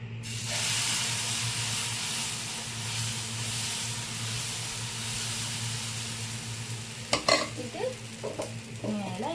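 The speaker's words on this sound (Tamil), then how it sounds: "இப்போ தோசை ஊற்றிடலாம்" Dosa batter hits a hot pan and sizzles with a steady, close hiss that holds for several seconds, followed by a few scraping and clinking pan sounds near the end, with no talk.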